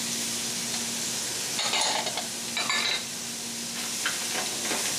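Clams, mussels and garlic being stirred as they sizzle in a hot pan, with a steady loud hiss and bursts of scraping and clattering from the stirring, close by and with no talk.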